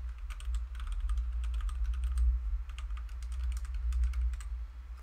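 Fingers typing on a computer keyboard in a room, giving quick, close clusters of light key clicks in uneven bursts over a low steady hum, with no voices.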